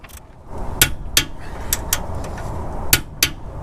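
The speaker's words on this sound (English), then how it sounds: "and now I'm gonna transition to the torque wrench." A wrench works on differential mount bolts during a front differential support arm bushing replacement, giving a series of sharp, ringing metallic clicks and taps at uneven intervals, close and fairly loud, with no talking.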